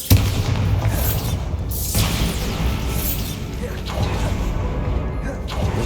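Booming Bombarda blasting-spell explosions in Hogwarts Legacy on Xbox Series X, a few heavy bursts spaced a couple of seconds apart over continuous rumbling game noise.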